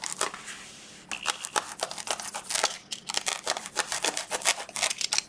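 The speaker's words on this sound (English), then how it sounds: "I just need to cut two tiny pieces or two blocks" Scissors snip two tiny paper blocks for a junk journal cover, making a quick, close series of crisp, irregular cuts with paper rustling between them.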